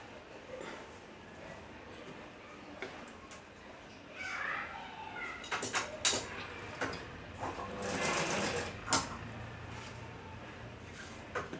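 A sewing machine stitches a kunchigi hood in quiet, intermittent bursts against a low background, with a few sharper clicks and a slightly fuller stretch of stitching midway.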